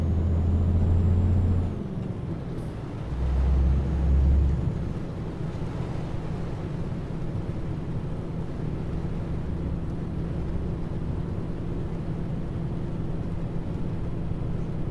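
Heavy truck engine in a trucking simulator game drones low and steady at close range, with a couple of deep rumbling surges early on that suggest gear or brake action; no talking.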